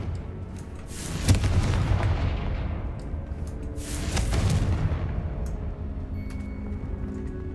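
A fire spell cast in Hogwarts Legacy, heard as two booming blasts a few seconds apart, each a loud explosive burst followed by a rumbling decay, with fainter game sounds in between.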